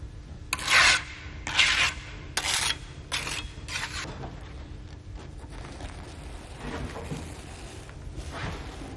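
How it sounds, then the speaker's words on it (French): Notched trowel spreading mortar adhesive across a concrete block course, a few sharp rasping scrapes in quick succession up close, followed by softer scraping strokes. "puis utilise la truelle à dents sur le reste de l'assise"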